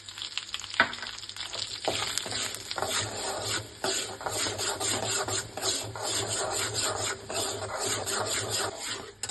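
Semolina (rava) being stirred and roasted in a pan for sajjige, giving a steady close scraping, rasping sound with a faint sizzle, continuous and alone with no talk.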